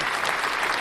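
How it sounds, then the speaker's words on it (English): Applause on a podcast, a short dense burst of clapping, loud and close, filling the whole moment. "round of applause for Kruse Court"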